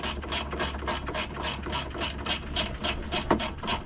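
A ratcheting wrench loosens a 10 mm bolt on a 2006 Honda Civic Si. It gives an even, rapid series of sharp clicks in quick repeated strokes, close up and alone.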